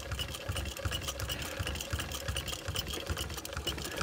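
A vintage sewing machine being restored runs steadily, its needle stitching in a fast, even mechanical chatter with rhythmic thumps, close and continuous without talk.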